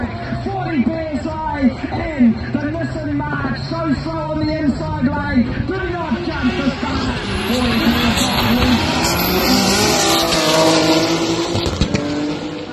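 A twin-turbo car drives off and accelerates, its engine note climbing and swelling louder in the second half with some tire squeal, while someone talks over the early part.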